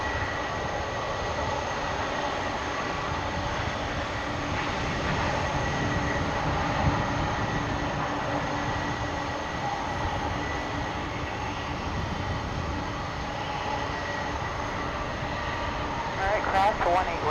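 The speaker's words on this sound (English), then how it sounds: "Now this plane has to come to a stop while we have an arrival on 18 right." Airliner decelerating on the runway at Dallas/Fort Worth Airport, a steady broad roar of engine and rolling noise that holds at a constant level, with a voice talking over it.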